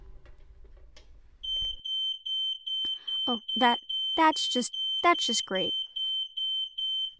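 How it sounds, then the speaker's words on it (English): Smoke alarm set off by chicken burning in an oven, a loud steady high-pitched beeping tone that starts partway in and continues without pause while someone talks over it. "I've got the alarm."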